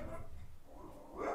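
A pet dog barks briefly in a home during a July 4th livestream of a card game, a short bark or yip rising near the end over low background noise.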